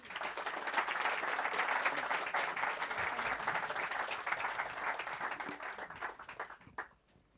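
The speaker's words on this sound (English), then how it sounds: "So please give a warm round of applause for Kirill Hartog and Alexander Hurst." Audience applause at a meet-up event in Amsterdam's Pakhuis de Zwijger, a sustained dense wash of clapping from a room full of people that fades out near the end.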